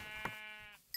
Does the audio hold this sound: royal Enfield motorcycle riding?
no